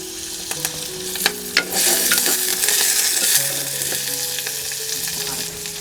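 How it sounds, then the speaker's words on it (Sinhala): Red onions, curry leaves and rampe sizzle and crackle in hot oil in a pan for a Sri Lankan roasted dal curry, a steady frying hiss with a few sharp spatters and stirring scrapes, close up and with no voices. "අපි රතු ලුණු ටික දානවා තෙලට. උළුහලට ටික දා ගන්නවා. රම්ප කරපොංච දානවා."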